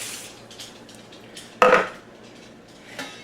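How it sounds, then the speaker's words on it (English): Rice dumped into a pot of broth at a boil, heard as a sudden rushing clatter against the pot, with lighter metallic taps and clinks of kitchenware before and after it. "There's our broth at a boil. I'm going to dump in our rice."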